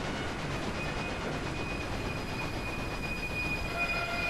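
A train running in the Railway Empire video game, a steady continuous rumble of wheels on track with a thin high squeal over it, loud and constant throughout with no talk.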